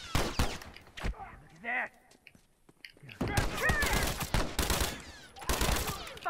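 Rifle shots in The Last of Us ring out as sharp, loud cracks in scattered bursts, with a quiet gap in the middle and a person talking briefly over the action.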